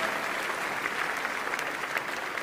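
Steady applause from a worship conference audience, a dense wash of clapping held at moderate, somewhat distant level for a couple of seconds with no talking over it.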